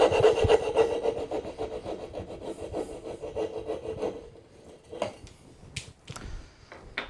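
A hand saw cuts the waste between dovetail pins in wood, fast rhythmic rasping strokes close up that slow and thin out into a few scattered knocks and scrapes.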